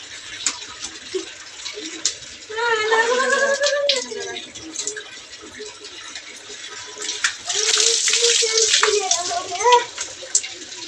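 Water splashes and pours at close range while a young boy is bathed, coming in a few louder bursts between quieter moments, with voices talking now and then.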